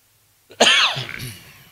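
A single sharp cough bursts out close and loud, then trails off into a rough breathy tail.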